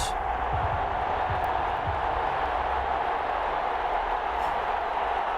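Steady roar of a large stadium crowd in Madden 21 before a Minnesota Vikings at Detroit Lions football game, a dense continuous wash of cheering and murmur held at even loudness throughout.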